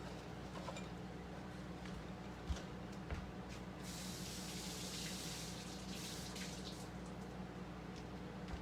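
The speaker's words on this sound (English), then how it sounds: "Just gonna give this basil also a quick rinse." Fresh basil gets a quick rinse under a running kitchen tap, a steady faint hiss of spraying water with a few small knocks, quiet and continuous.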